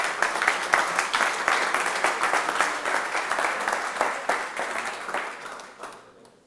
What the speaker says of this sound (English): So applause for Rodrigo.